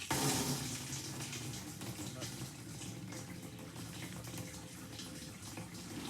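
Water gushes steadily into a lawn sprayer tank, a continuous splashing rush that holds for several seconds with a faint voice underneath.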